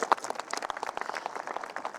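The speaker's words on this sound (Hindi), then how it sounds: "आप सबके लिए तालियां जोरदार।" An audience at a celebration event claps in a lively burst of applause, with many close and distant hand claps overlapping into a brisk rattle for a couple of seconds.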